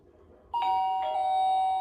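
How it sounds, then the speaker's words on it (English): A smart wi-fi doorbell camera, pressed indoors, rings with a clear electronic two-tone chime, one sustained ding followed by a second tone that rings on, close and loud with no talking. "So I'm going to press the bell and see if it works"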